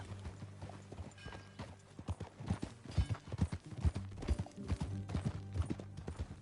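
Rhythmic hoof clip-clops from a horse in Red Dead Redemption at a steady walking pace, fairly close, with a low musical drone underneath.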